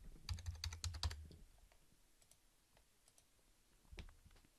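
A zip code typed on a computer keyboard during an online library card registration: a quick, quiet run of keystrokes, then a few scattered clicks and a final key press after a pause.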